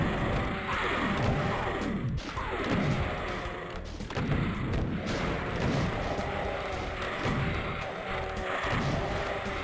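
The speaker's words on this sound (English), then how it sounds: "we're essentially just going to use this invulnerability to shotgun all these guys down." Booming shotgun blasts fire in rapid succession in the video game The Plutonia Experiment, loud and continuous over a dense layer of game noise and explosions.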